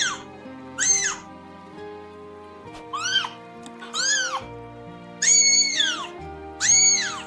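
A kitten cries and screams in a played clip, giving repeated loud, high, wavering meows in about six separate bursts over a soft musical background.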